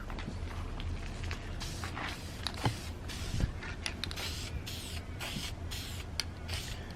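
Spray paint hisses on in light coats over Toyota Supra MK4 interior trim, a steady close broadband spray with a few brief clicks and knocks and no talk.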